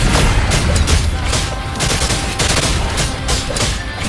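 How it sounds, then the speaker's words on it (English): Mortar explosions and combat in the PS5 video game Wuthering Waves, a dense loud barrage of repeated blasts and booms at a steady rhythm with music behind them. "Another mortar thrown at us."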